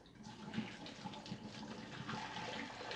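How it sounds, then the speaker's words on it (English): Water from a pot of boiled potatoes pours out in a steady, soft splashing rush, continuous and fairly quiet throughout. "We're going to drain them."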